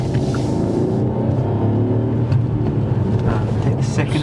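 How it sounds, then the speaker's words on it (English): A car accelerating on a road during a driving test, its engine rumbling steadily and loudly from inside the cabin with a low droning tone and faint rattles, no voices heard. "He reacts well by accelerating to build up his speed quicker."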